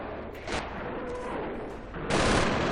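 Enemy gunfire crackles in a Company of Heroes battle, with a few scattered distant rifle shots followed by a louder, denser burst of fire near the end.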